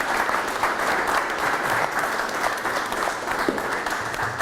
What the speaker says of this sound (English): can I just have a big round of applause for all our speakers?